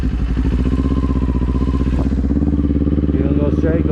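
A motorcycle is ridden in high winds, its engine droning loudly and steadily up close while wind rushes over it; a muffled voice briefly comes through near the end.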